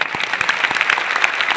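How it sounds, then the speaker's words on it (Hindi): Audience at a motivational speech in a Patna hall bursts into loud, close applause, a brisk continuous patter of many hands with sharp individual claps standing out. "जोरदार तालियां।"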